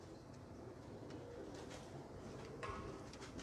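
A female royal teddy pigeon coos softly at close range, low rolling calls under a steady background hiss.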